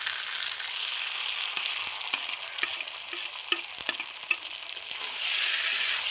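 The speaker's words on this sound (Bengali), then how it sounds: "বন্ধুরা এইভাবে কাঁঠাল চিংড়িটা কষিয়ে কষিয়ে রান্না করবেন" Jackfruit and prawn curry sautéing in a pan gives a continuous close sizzle, with intermittent spatula scrapes and crackles and no speech.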